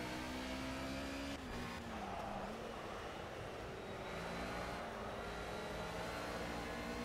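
A race car roars past in Project Cars, a steady loud engine drone with rising and falling pitch as it overtakes, continuous for the whole stretch with no talking.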